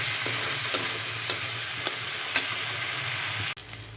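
Prawn masala for chingri kalia stir-fried in a pan: a steady close sizzle with rhythmic spatula scrapes every half second, cutting off abruptly near the end.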